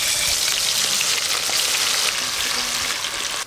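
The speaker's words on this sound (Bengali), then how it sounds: "তেল গরম হয়ে গেছে, চিকেন চাপের চিকেনগুলো ভেজে নেব।" Chicken pieces for chicken chaap fry in hot oil, giving a loud, dense, continuous sizzle that stays steady from start to finish.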